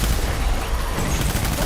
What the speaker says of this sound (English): All of those bullets went into a wall